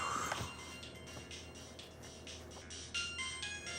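A mobile phone ringtone rings in repeated melodic bursts, moderately loud and close, with no talking over it.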